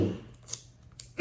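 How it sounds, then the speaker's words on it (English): Scissors snipping to trim excess tape during a kids' craft activity: a couple of short, crisp cuts spaced apart, close by and moderately loud, with no talking over them. "That's why we have the scissors here,"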